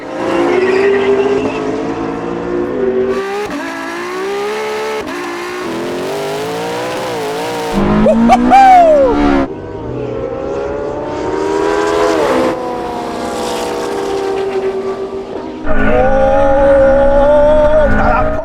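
Racing supercars, a LaFerrari, Porsche 918 and McLaren P1, roar through loud engine revs and gear changes, with shifting pitches, a brief tire squeal and surging acceleration that stays close and dominant throughout.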